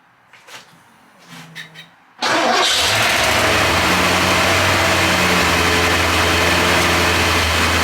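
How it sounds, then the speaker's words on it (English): A Porsche 928 engine with a high-idle problem cranks and catches after a couple of seconds of quiet rustling, then settles into a steady, loud idle close by. "So let's start the car up and see."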